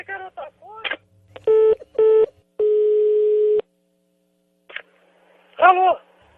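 A telephone line drops, and short steady beeping tones sound in sequence through the handset, mixed with brief bits of voice and tone.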